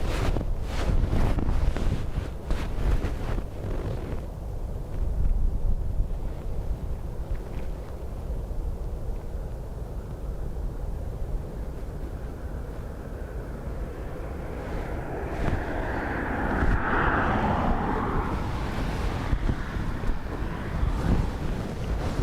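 High winds of Storm Bram at Dublin Airport batter the microphone in a loud, continuous roar and rumble that swells and buffets throughout, with no voices heard.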